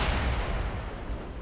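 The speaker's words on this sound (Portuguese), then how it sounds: "que tiro lindo, galera!" A tank cannon shot in the World of Tanks video game, one loud booming blast that rolls out and decays over a second and a half, with no voice over it.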